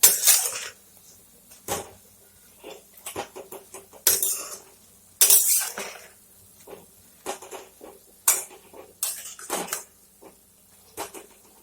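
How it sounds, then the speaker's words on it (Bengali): A hilsa fish head and taro curry is stirred in a pot: a series of irregular clanks and scrapes of a spoon against metal, some loud and sharp, others soft, separated by short quiet gaps, with no voices. "একটু নেড়ে নিব।"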